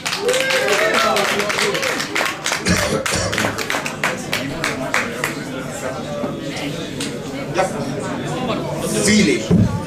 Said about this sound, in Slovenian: En aplavz, prosim.